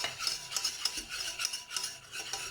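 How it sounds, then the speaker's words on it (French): Béchamel sauce being stirred in a saucepan, a steady, continuous rhythmic scraping and swishing of a utensil across the pan bottom, soft and close with no talk. "et on mélange bien. sur une casserole."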